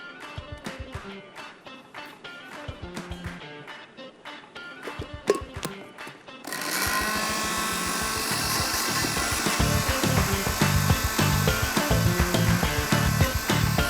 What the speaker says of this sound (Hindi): थोड़ा सा इसको मैं और ब्लेंड करूँगी